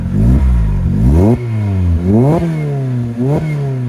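A Lotus Exige S S2 with an aftermarket exhaust revs up repeatedly, rising in pitch and dropping back several times, close, loud and throaty.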